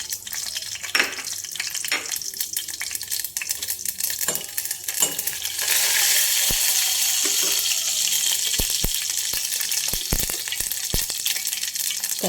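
Mustard, cumin and fenugreek seeds sizzle in hot oil for a rasam, a steady frying hiss that grows louder midway, with sharp seed pops and crackles breaking through near the end.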